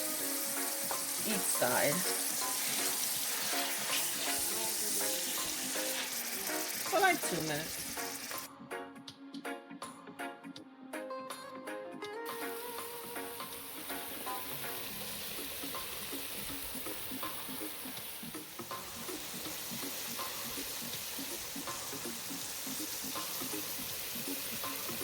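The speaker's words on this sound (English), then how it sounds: "And now I'm going to add my meat. Alright, listen to that." Steak sizzles and crackles steadily as it sears in a hot frying pan for a budget steak dinner, with a brief dip partway through and the busy frying continuing loud and close. A person talks briefly over it.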